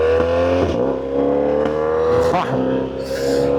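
BMW R1300GS motorcycle fitted with a Black Widow aftermarket exhaust, loud and close, holding a steady rumbling idle broken by two quick throttle blips that rise and drop back.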